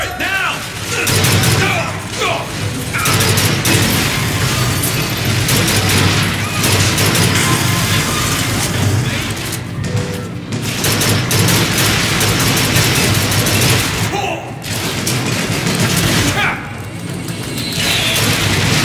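Turret gunfire erupts during combat in BioShock Infinite, with dense, continuous blasts, crashes and booms packed together at high volume for the whole stretch, and voices sound faintly beneath the din.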